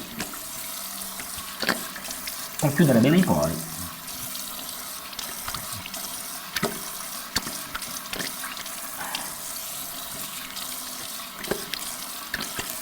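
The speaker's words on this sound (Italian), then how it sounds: "Andiamo con l'acqua fredda a sciacquare quello che resta" Cold tap water runs into a bathroom sink while a face is rinsed after shaving, with a brief louder gush of splashing, then quieter trickles and drips; someone speaks softly over part of it.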